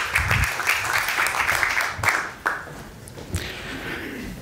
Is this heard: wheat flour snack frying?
no